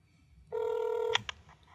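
A telephone tone on a house phone call sounds once: a steady, loud electronic tone lasting just over half a second, then a couple of short clicks, heard alone with no talk.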